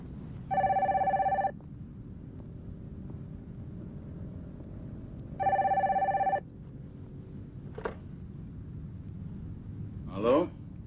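A telephone rings in two long electronic bursts in a Brazilian film from 1987, loud and close, separated by a quiet room tone with a few faint thumps afterward.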